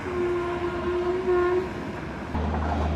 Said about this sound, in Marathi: हे पाहू शकता ट्रेन आलेली